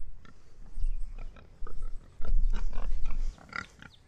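Pastured pigs grunting and snuffling in a weaning pen, several close, rough grunts in irregular bursts.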